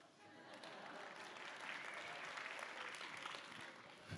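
A theatre audience at a comedy keynote applauding in a continuous, even wash of clapping that holds steady for a few seconds, fairly faint and distant, with no talking over it.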